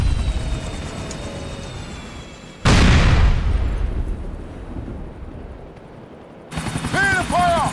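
A bomb dropped from a helicopter in GTA IV explodes with a sudden loud boom that rumbles and slowly fades over several seconds, followed by a burst of other game sounds.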